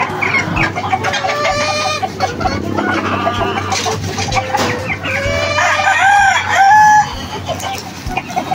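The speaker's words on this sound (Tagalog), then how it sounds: "Diba, ang dami ng manok." White Kelso gamefowl crow and cluck in a crowded yard, with several overlapping rooster crows rising over steady clucking and background noise.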